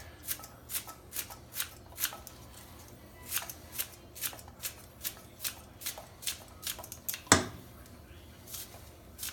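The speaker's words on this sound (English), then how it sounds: "So I'm gonna show you how easy you can cut your green onions, just like this" Green onions snipped with kitchen scissors: a steady series of crisp, close cutting clicks, about two per second, with one sharper snap partway through and quiet kitchen background.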